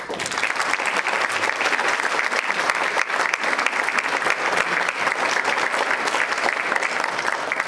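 A disability summit audience welcomes keynote speaker Greg Baird with warm, sustained applause, steady and near, with dense clapping that holds for the whole stretch.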